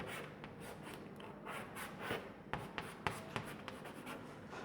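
Chalk or marker writing on a board during a chemistry lesson, faint scratchy strokes and taps in an irregular rhythm, close and quiet with no talk.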